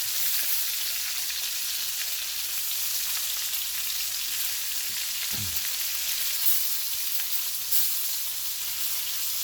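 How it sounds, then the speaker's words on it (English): Bacon sizzles in a cast iron pan on a stovetop, a steady, close hiss of spitting fat that runs the whole time with a brief low clunk partway through. "bacon fry a little more"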